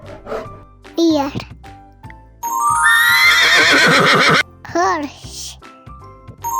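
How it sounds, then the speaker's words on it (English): A horse gives a loud, drawn-out whinny lasting about two seconds, framed by a voice speaking before and after it in a children's animal-names lesson. "horse"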